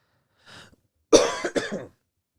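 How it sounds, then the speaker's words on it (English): A faint short throat sound, then a louder cough in two or three harsh bursts, close by, followed by silence. "I went 28 minutes without coughing, and then I coughed at the end"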